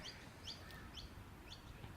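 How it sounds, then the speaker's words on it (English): Crows call several times in short, bright bursts at a steady pace against a constant low outdoor rumble, fairly distant and not loud, with no talking. "There's crows"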